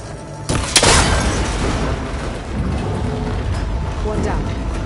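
A cable connector shot and breaking apart in the Horizon video game, a loud burst near one second with a sharp crack and a booming rumble that trails off under a steady game background.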